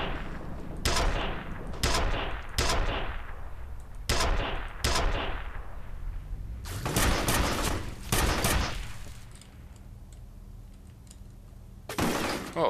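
Loud bursts of gunfire from a shotgun-type weapon in the first-person shooter F.E.A.R., fired in a run of separate blasts with gaps between them, then a couple of heavy closely spaced shots and a final blast after a quieter stretch.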